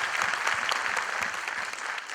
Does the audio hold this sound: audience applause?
yes